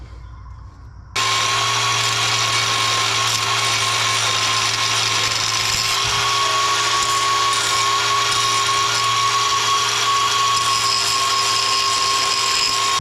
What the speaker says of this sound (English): we'll cut the head on this bolt